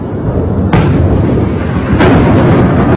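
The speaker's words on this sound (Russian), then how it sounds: "Непосредственно это видео снято в окрестностях Мариуполя, на нем также отчетливо слышны и видны даже взрывы." Explosions from shelling near Mariupol crash out as loud, broad booms, one at the start and two sharp blasts later, each followed by a sustained rumbling roar with no talking.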